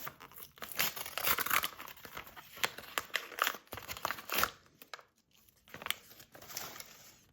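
A paper packet crinkles and tears in bursts of dense rustling, close and fairly loud, with short pauses between handlings.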